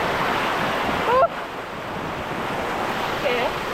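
Steady rushing roar of a waterfall at Crystal Creek, running strong after rain, a constant close wash of water with a brief voice in the middle.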